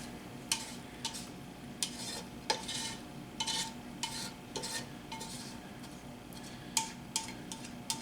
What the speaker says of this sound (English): go ahead and dump your ground beef in here